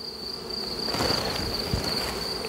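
Honeybees buzz steadily around an open hive while a beekeeper inspects frames during a check on swarm egg-laying. The hum is dense and close, with a thin high tone running through it and no talking.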